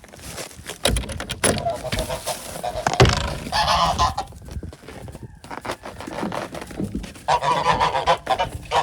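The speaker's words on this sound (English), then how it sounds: "I'll let the geese out here." A flock of geese being let out of their shelter honk repeatedly in loud, overlapping bursts nearby, with someone talking now and then between the calls.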